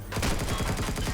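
Rapid automatic gunfire in Empyrion Galactic Survival strikes the player's ship, a dense, loud, continuous burst of quick shots with no voices over it.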